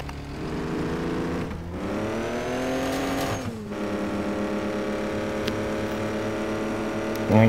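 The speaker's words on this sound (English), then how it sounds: "How is this truck even pulling this?" A Chevy C10 flatbed truck engine in a driving game strains while pulling a log trailer, a steady loud drone with rising and falling revs and two brief gear-shift dips.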